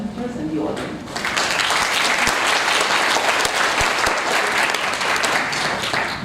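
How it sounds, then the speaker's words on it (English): Sustained applause from an audience at an expert group meeting, a dense wash of clapping that swells in after a second and continues steadily at full volume. "give a round of applause to the presenters and the audience"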